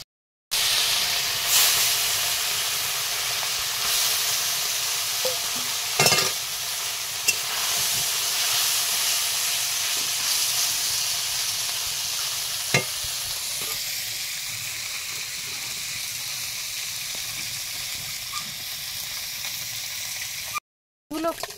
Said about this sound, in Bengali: একটু মাছগুলো আস্তে আস্তে করে ভাজতে হবে, কারণ খুব নরম মাছ, বেলে মাছ, ভেঙে যেতে পারে। একটু কড়া করে ভেজে নেব।